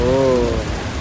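Heavy rain pours down in Puri, a dense steady wash of rainfall heard up close and loud, with a brief tonal hum at the start.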